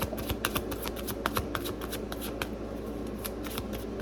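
Tarot cards are shuffled close up, a rapid run of crisp riffling flicks and snaps that continues evenly throughout.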